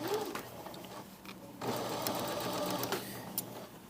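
A serger sewing the set-in sleeve seam allowances of a blouse, a close rapid mechanical whir running steadily with a brief slowdown partway.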